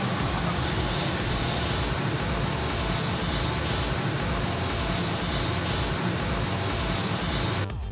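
An airbrush sprays orange transparent paint onto artwork in one steady, close hiss that runs unbroken for nearly eight seconds before it cuts off sharply at the end.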